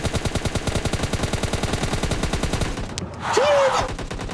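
Rapid automatic gunfire in the mobile battle royale game PUBG Mobile Lite, a steady stream of close, evenly spaced shots that stops partway, followed by a short burst of other game effects.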